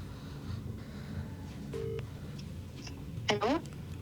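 Phone call placed on speakerphone: a brief keypad tone and a short chirping call-connect sound rise faintly over a steady background murmur of voices in a room.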